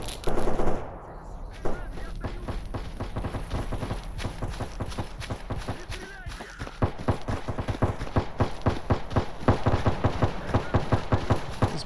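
Gunfire in a foggy S.T.A.L.K.E.R. Anomaly firefight: rapid bursts of automatic shots and sharp single cracks, dense and irregular, growing louder and more sustained toward the end.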